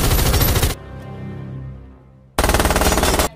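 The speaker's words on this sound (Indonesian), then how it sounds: "melepaskan tembakan ke arah Edge setelah Edge menembaki para perampok yang tersisa" Loud bursts of rapid automatic gunfire from a film, two sustained volleys separated by a short lull with a fading rumble.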